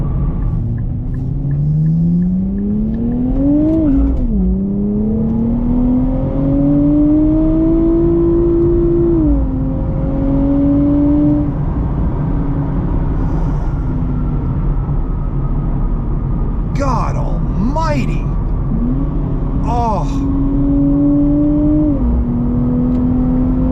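A 2024 Nissan Z Nismo engine revs and climbs through the gears, a loud rising drone with sharp blips and crackles, and a voice exclaims once.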